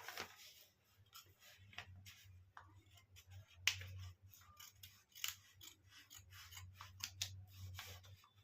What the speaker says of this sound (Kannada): ನೀಟಾಗಿ ಕಟ್ ಮಾಡ್ಕೊಳ್ಳಿ ಅಷ್ಟೇ.